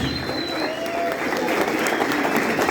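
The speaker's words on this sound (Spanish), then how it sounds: "el aplauso para ellos" Dense, sustained applause from a crowd at a Holy Week performance of Jesus Christ Superstar in Santa Eulalia, even and continuous throughout, with a faint voice and a brief whistle-like tone mixed in.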